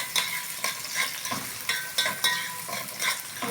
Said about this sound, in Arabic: وادي البصلة معانا هي اللي بتتاخد لون